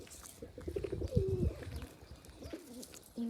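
A pigeon coos up close in a short, throaty, rolling call with a few soft notes trailing after it, over faint background noise outdoors.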